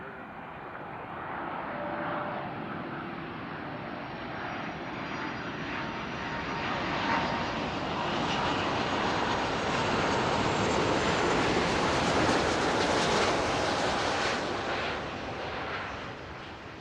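A jet airliner takes off from runway 28 at Zurich Airport, a loud, sustained engine roar that swells gradually and stays strong, heard from nearby.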